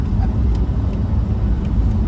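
Car cruising on a rural Texas road past farmland and ranch land, a steady loud low road and engine rumble with no letup.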